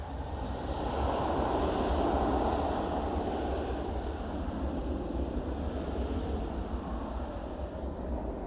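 At DFW Airport at night, an airplane passes with a broad, rumbling jet roar that swells early and slowly fades while staying steady and fairly loud, with no voices.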